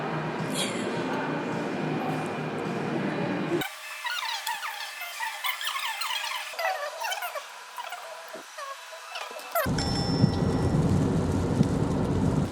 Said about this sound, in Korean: 그래서 울산에는 이렇게 비가 엄청나게 쏟아지고 있어요.